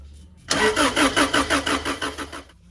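An old Subaru Leone engine cranks with a rapid rhythmic chugging of about eight loud pulses, then cuts off, close up.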